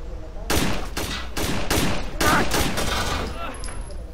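Gunfire in Rainbow Six Vegas: four or five loud, sharp bursts of shots in quick succession, each with a ringing tail, close and dominant.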